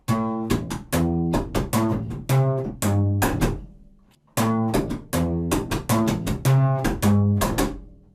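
Slapped double bass plays a brisk rockabilly rhythm, percussive slap clicks on each beat alternating with plucked notes, with one short pause midway.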